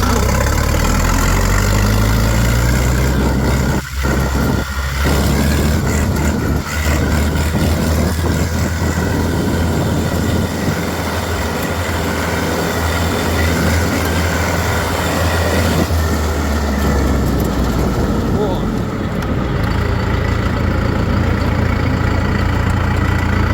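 A DTZ 50 hp tractor's diesel engine runs loudly and close while the machine drives, a steady low rumble with rattling and clanking throughout, a few knocks and jolts around the first seconds and a slight easing of the drone near the end.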